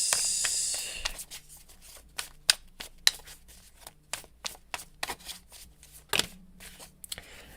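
Tarot cards being shuffled and handled: a burst of riffling at the start, then scattered crisp slaps and flicks of cards, close and fairly quiet, with no talking.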